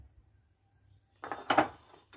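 Chopped onions tipped into a pot while preparing a zucchini tagine make a short rustling clatter of pan and utensil after a near-silent pause, with no talking.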